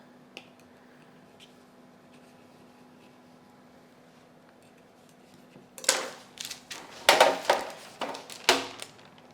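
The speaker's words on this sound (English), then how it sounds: "I'm going to take my paring knife, and because I cleaned the sides, remember, so that it would stick, I have to release it from the sides of the pan" A paring knife works around the edges of a sheet pan to free a gluten-free patterned Swiss roll cake: a quiet stretch, then a burst of sharp, close scraping and clinking metal taps in an irregular cluster near the end.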